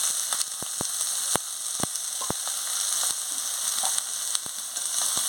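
Eggplant fries in hot oil with spice tempering, turmeric, salt and neem leaves, giving a steady, close sizzle dotted with scattered sharp pops and ticks.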